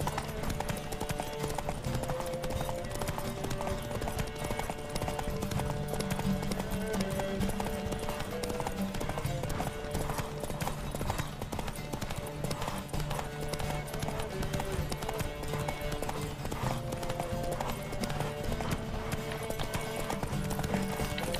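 Horse hooves clip-clop at a steady gallop in The Witcher 3 during a race, with music playing throughout and some speech mixed in.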